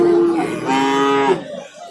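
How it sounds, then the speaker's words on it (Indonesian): A local bull at a cattle market in Tuban, East Java, gives a single loud, long moo that rises and holds for about a second before trailing off, close by, with faint market noise behind. "Ini masih sapi lokal bos, katanya masih dari daerah Montong, masih dari daerah Tuban ini."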